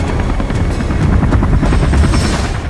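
Helicopter in the video game Beyond Two Souls: a steady, loud rotor drone with low thumping, joined by scattered sharp bursts that suggest gunfire or impacts, continuous for a few seconds.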